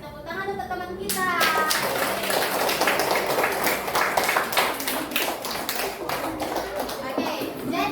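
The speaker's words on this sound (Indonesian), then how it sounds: "kita kasih tepuk tangan untuk teman kita." A class of schoolchildren breaks into a burst of applause, many small hands clapping in a dense, lively patter that keeps going steadily. A teacher's voice is heard briefly before it begins.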